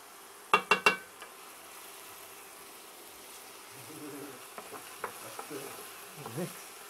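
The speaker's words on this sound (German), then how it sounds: "Lassen wir das ein wenig anrösten, dass ein bisschen Röstaromen reinkommen." Meat and onions browning in a pan for Szeged goulash, a faint low sizzle with a few sharp clatters at the start and soft stirring scrapes later.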